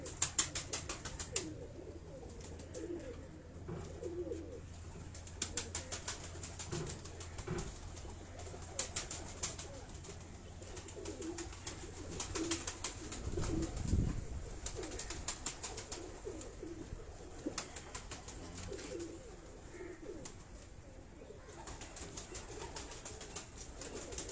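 Pigeons, including crossbred flying birds kept by a Karachi breeder, coo softly and steadily in a loft, with occasional wing flutters and clicks, close by and not loud.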